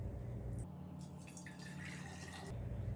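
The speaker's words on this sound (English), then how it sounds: "you're going to pour it in your jug" Cucumber water is poured into a jug, a soft liquid trickle and fill that rises for a couple of seconds in the middle before stopping, faint and close against a quiet kitchen background.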